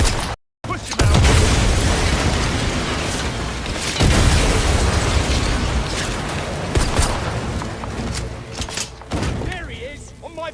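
A grenade blasts in a first-person shooter game, a loud booming burst followed by sustained rumbling combat noise and scattered gunfire, with soldiers shouting callouts over the chaos.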